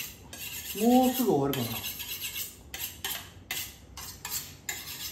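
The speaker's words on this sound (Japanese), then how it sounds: "あと包丁研ぐのはどんぐらいで終わりますか？" A kitchen knife is sharpened with steady, repeated scraping strokes in short rhythmic bursts, while a voice speaks briefly over the start.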